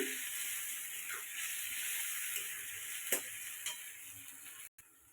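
A paste of garlic, ginger, chilli, cumin and onion sizzles loudly in a hot pan for pea ghugni, a steady frying hiss broken by a few light scraping clicks of stirring.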